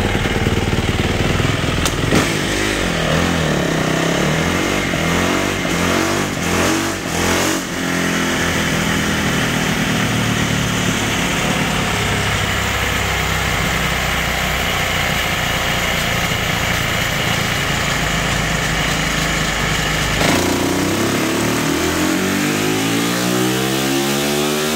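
A 2021 Yamaha YZ450F motocross bike's engine is held at high revs on a Dynojet dyno, a loud, sustained buzzing roar that drops off near the end.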